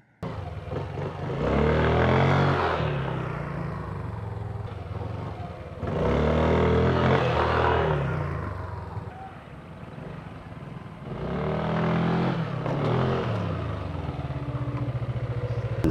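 A 2020 Yamaha Aerox S 155 scooter revs hard three times in succession, each loud rising whine holding for a few seconds before easing back toward idle, up close.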